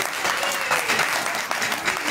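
Audience applause at a Hindu religious katha, a Srimad Bhagwat saptah gathering in Ghaziabad, a steady dense clapping that carries evenly throughout, with a faint voice underneath.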